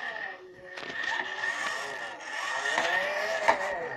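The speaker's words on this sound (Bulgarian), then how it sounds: "Чуйте как се чува моята кола." A car engine in the multiplayer driving game Dubai Drift drones at a steady tone, its pitch swelling and dipping with revs and one sharp peak near the end, moderately loud with faint background voice.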